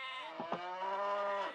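Sheep and a cow in a strategy video game, producing a short, moderately loud animal call with a low, drawn-out bleating or lowing tone and no talk over it.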